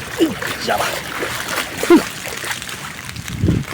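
Water splashes and sloshes on a flooded road in Dubai during wind and rain, with voices talking over the splashing.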